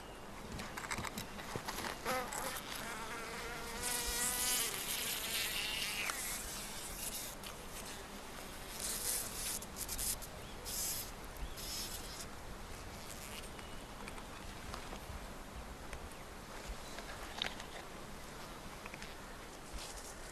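Bees buzzing around a wild colony nesting in a gnarled tree on a mountainside, a soft continuous hum with occasional closer passes drifting in and out, faint against the outdoor background.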